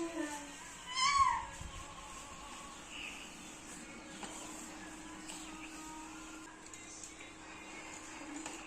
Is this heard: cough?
no